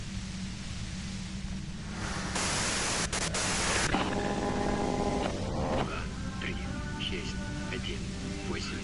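White noise static from Disco Elysium bursts in as a loud, harsh hiss for about a second and a half, then gives way to a steadier hum with tonal layers.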